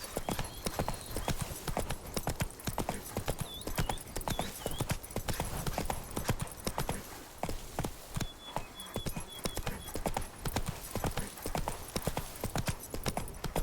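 Horse hooves clip-clop steadily and loudly on the ground in The Witcher 3: Blood and Wine, a brisk continuous gallop rhythm with occasional game chimes over the top.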